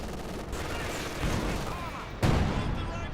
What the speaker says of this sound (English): Axis barrage there onto the MG42.